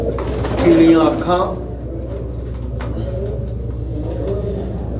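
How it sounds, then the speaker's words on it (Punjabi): A pigeon coos close by in a pigeon-keeping setting, one rolling call rising early and then trailing into a low murmur, while someone talks over it and a steady low hum runs underneath. "ਕਾਫੀ ਵਧੀਆ ਕਬੂਤਰ ਹੈ ਜੀ"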